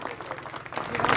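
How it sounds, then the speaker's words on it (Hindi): A crowd at a political rally for an Aam Aadmi Party ward candidate claps together, a dense, steady wash of applause that stays loud and swells slightly toward the end. "एक बार सभी लोग सौरभ भाई के लिए बहुत अच्छी तालियां बजा दीजिए खड़े होके।"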